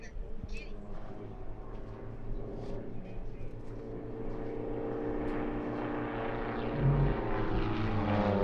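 A propeller airplane, the lead ship of a two-ship aerobatic formation, flies at the Apple Valley air show. Its engine drones steadily and grows gradually louder toward the end, with an announcer talking over it.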